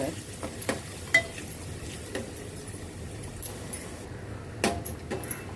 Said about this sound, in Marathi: सहा सात लसणाच्या पकड्या घेतल्या ते घालून घेऊया आपण थोडं परतून घ्यायचं